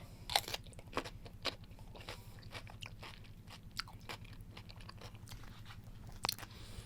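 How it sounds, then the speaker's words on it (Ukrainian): Someone bites and chews a sour, yellowed pickled cucumber from a winter preserve jar, producing a series of sharp, wet crunches up close over a low steady hum, with no talking. "Дуже люблю хрумати огірочок."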